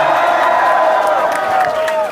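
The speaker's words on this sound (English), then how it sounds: "Make some noise for yourselves one time" Live concert crowd at a rap show in Arizona cheering, whooping and shouting continuously at full volume, a dense roar of many voices that swells slightly and stays loud throughout.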